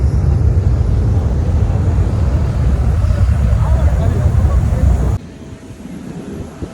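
A military jet at the Dubai Airshow produces a loud, continuous broadband roar that abruptly drops to a quieter rumble about two-thirds of the way through.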